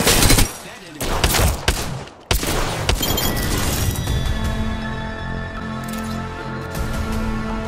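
Apex Legends gunfire, several sharp bursts of shots in the first seconds, then a lingering ringing tail as the action settles, with a voice speaking briefly over it.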